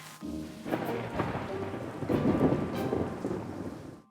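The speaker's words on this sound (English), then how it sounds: "fear of thunder and lightning" Steady rain pours down while low thunder rumbles and rolls through, swelling louder toward the middle before easing off.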